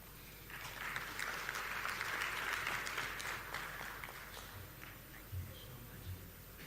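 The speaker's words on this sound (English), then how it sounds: "Let's appreciate him one more time with a clap" Conference audience at a Global Tourism Resilience Day event applauding a professor's speech, a sustained wash of clapping that swells and gradually thins out over several seconds.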